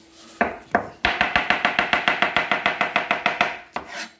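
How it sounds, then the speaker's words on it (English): A kitchen knife slices down through vegetables on a cutting board in about twenty quick, evenly spaced strokes, close and crisp, following a couple of slower opening cuts. "slice down through them"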